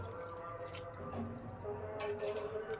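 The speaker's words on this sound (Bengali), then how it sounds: "এখন গরম জল দিয়ে আস্তে আস্তে ব্যাটার করবো" Hot water trickles into a coconut and rice flour batter, soft close pouring and dripping with faint liquid gurgles, quiet and continuous.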